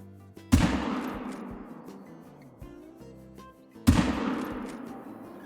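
Two sharp, loud gunshots from a 45-70 lever action rifle fired with iron sights while hunting pronghorn in the Call of the Wild video game, each a cracking blast with a long rolling echo decay, spaced about three seconds apart.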